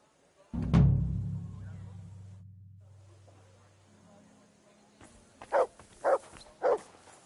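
Dog barks in Kingdom Come Deliverance 2, three short sharp yaps close by near the end, following a low rumbling thud and a quiet stretch.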